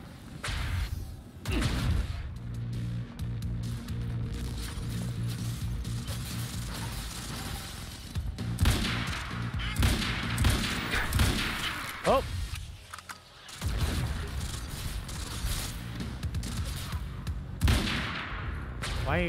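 Rapid gunfire bursts from the shooter video game Quantum Break, repeated shots and mechanical clatter running through most of the stretch, with someone talking over the action.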